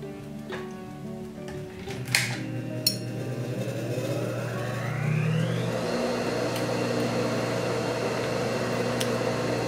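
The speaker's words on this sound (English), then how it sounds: "I'm working on an industrial sewing machine" An industrial sewing machine stitching a quilt-as-you-go scrappy potholder, a steady mechanical hum and whir running continuously, starting with a few sharp clicks and rising slightly in speed partway through.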